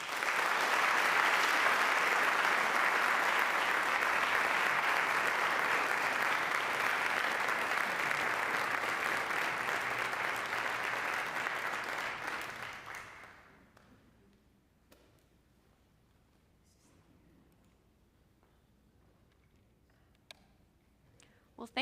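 A lecture-hall audience at Calvin University applauds steadily for about thirteen seconds to welcome a speaker, loud and sustained clapping that fades out, leaving quiet room tone with a few faint clicks.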